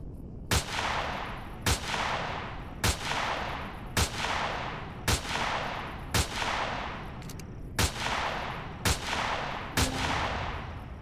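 Single gunshots fired at spaceships and spiders in the video game Empyrion Galactic Survival, about nine loud, sharp reports at a steady pace of roughly one per second, each trailing into a short echoing decay.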